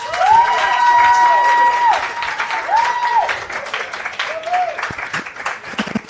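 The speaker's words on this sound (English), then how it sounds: "Let's give them a big round of applause." Audience applause and cheering on a college football coaches' show, clapping and crowd noise beneath drawn-out whoops and whistle-like calls, loud at first and then settling.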